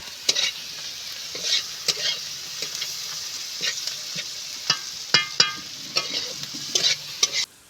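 Onion, garlic and shrimp frying in a pan, a steady close sizzle broken by repeated sharp scrapes and clatters of stirring, with no talk.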